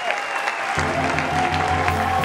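Studio audience applause on a French TV show, a steady wash of clapping with a musical tone running underneath, starting softer and swelling fuller partway through.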